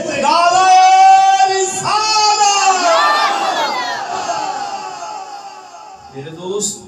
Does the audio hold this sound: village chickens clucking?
no